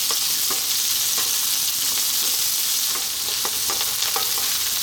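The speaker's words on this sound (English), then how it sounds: "we're first going to drop in our sliced onion" Sliced onion frying in hot oil over high heat for a ground beef noodle stir fry, a steady loud sizzle throughout with occasional sharper pops and spatters, no voices.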